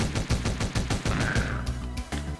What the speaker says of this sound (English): I want to shoot it again.